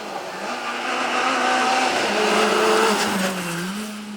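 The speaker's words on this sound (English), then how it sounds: "the next car is coming round pretty quickly" A rally car tears past on a stage of the 2019 Mull Rally, engine loud and near with rising and falling pitch as it changes gear, a steady roar building to a peak then easing away.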